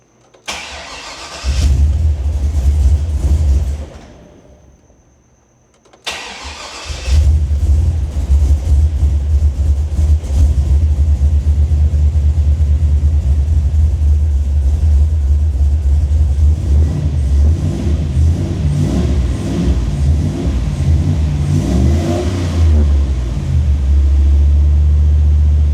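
An LS-swapped car with a newly installed Haltech ECU cranks and catches, then runs loud and rough with constant throttle held to keep it alive, the engine cutting out briefly early on before restarting and droning on with uneven revs.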